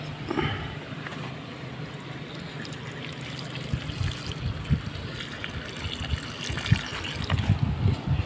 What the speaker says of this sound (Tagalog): ako na muna yung magdidilig para madaling matapos